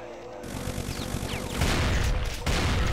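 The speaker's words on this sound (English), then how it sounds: "Sniper shotgun strikes again." Shotgun blasts in the Brutal Doom video game hit in loud, dense bursts over a continuous roar of heavy game noise, with sharp jumps in intensity as each shot lands.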